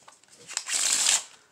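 A deck of playing cards being riffle shuffled, a quick buildup of ticks and then a loud, close burst of fluttering card riffle that stops suddenly, with no talking.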